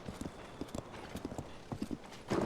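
Hoofbeats of Epona, the horse in Tears of the Kingdom, an irregular clip-clop of game footsteps, fairly faint, with a short louder burst near the end.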